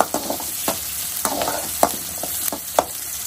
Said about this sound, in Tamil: சின்ன வெங்காயத்தை போட்டு வதக்கிக்கணும்.